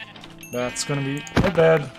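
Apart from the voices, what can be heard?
sheep bleating in Minecraft video game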